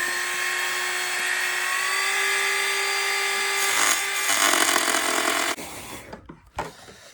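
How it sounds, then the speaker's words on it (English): A Dremel rotary tool cuts a small opening in the composite skin of a glider wing, giving a steady high whine whose pitch rises slightly as it works, then changes to rough grinding before it spins down and stops in a few bursts. "So again, here's the Dremel."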